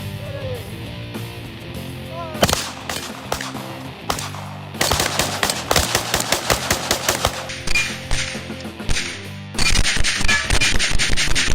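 Several guns firing rapid strings of shots at a Level III body armor plate outdoors, loud close bursts of dense cracks with short pauses between volleys and voices faintly in between.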